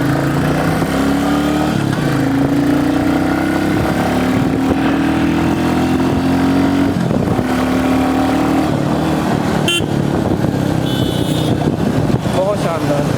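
A 2021 Royal Enfield Classic 350 motorcycle cruises on a highway with a steady engine thrum and wind rush, pitch rising and dipping with throttle, while a rider talks over it.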